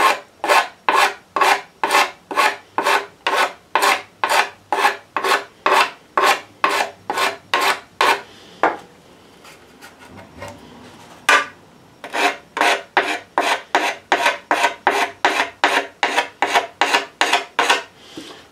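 Inner surface of a scooter part is smoothed by hand with a file, giving a rapid run of sharp rasping strokes in a regular rhythm, a short pause, a few scattered scrapes, then another steady series of loud, close strokes.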